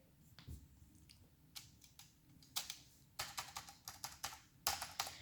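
Light clicking keystrokes on a computer keyboard with LEDs, sparse at first, then quicker bursts of taps in uneven clusters, close and quiet.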